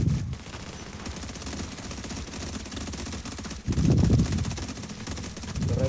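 Turret in the video game The Division firing in long rapid automatic bursts, close and continuous with brief pauses, mixed with game ambience.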